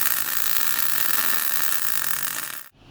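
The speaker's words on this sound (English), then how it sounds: "Alright, Schmick's doing a little welding." Steady broadband hiss and crackle of welding on a thick metal crossbar, loud and continuous for nearly three seconds before cutting off abruptly at the end.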